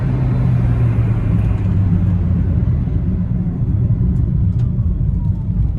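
A Honda City and a Ford Aspire in a drag race, engines giving a loud, sustained roar and low rumble that holds steady throughout, heard close with no clear speech.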